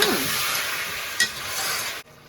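Tomatoes hit a hot pan for a Telugu vegetable stew, setting off a loud, dense sizzle that holds steady with one scraping stroke before it cuts off abruptly.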